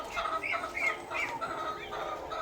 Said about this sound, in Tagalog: Ang daming pato.